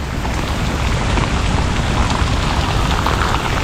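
Heavy monsoon rain pours down with water rushing below, a dense, steady roar that stays constant and close throughout, with no voices.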